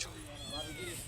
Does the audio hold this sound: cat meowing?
yes